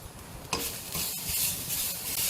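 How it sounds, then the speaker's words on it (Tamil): Red chillies and grated coconut dry-roasted in a pan without oil, giving a close, steady crackling sizzle with scraping stirring strokes and a sharper knock near the start, without talk. "அதுலேயே தேங்காயும் சேர்த்துக்கலாம், தேங்காய் பூவும். எண்ணெயெல்லாம் சேர்க்காம அதை ரோஸ்ட் பண்ணணும்."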